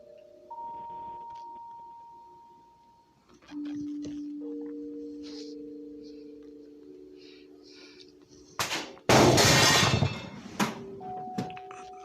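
A small glass case falls in a quiet room, giving one loud sudden crash with a sharp clatter after a long stretch of faint tones and low hum, followed by a few smaller knocks.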